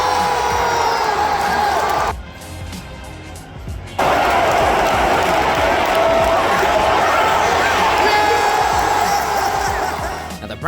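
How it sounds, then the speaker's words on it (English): Cleveland Browns fans in a packed football stadium at a rivalry game against the Cincinnati Bengals let loose a barking cheer, a loud, sustained crowd roar with whoops that briefly drops away for a couple of seconds before surging back. "all the fans often do a sort of bark cheer. They going crazy"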